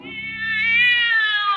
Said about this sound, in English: the cat screamed and leaped against the wall